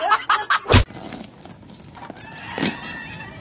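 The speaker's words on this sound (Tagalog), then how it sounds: "matapang yung manok ni Tatay Tatsuki" A rooster or chicken gives several sharp, close calls in quick succession, followed by a loud burst, then quieter rustling and a softer cluck.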